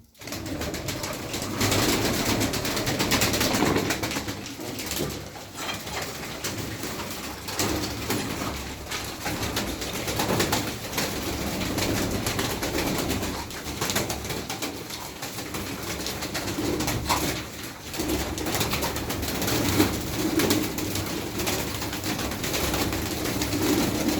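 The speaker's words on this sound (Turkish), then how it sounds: "Arkadaşlar bu kuşları buraya atacağım" Pigeons coo steadily and close up in a dense, continuous chorus of soft, throaty calls, with faint background rumble.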